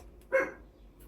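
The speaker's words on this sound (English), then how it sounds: "I think somebody has arrived because my dog is barking." A dog gives one short, sharp bark at a middle distance, alone against a quiet background.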